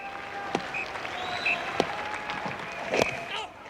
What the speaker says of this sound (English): a big cheer here for Glenn McGrath